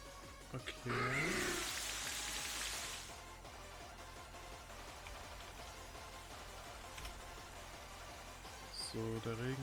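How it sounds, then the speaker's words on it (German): Rain from a weather effect in a Pokémon video game battle hisses as a burst of soft white noise over a faint game soundtrack, then fades to a low background patter. "So, der Regen ist aktiv."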